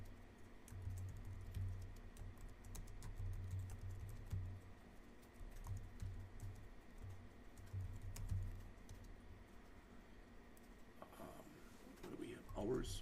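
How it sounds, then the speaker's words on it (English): Soft, faint typing on a computer keyboard while writing Java code, scattered quiet key taps over a steady low background hum, continuing for several seconds. "I'm going to type it like this"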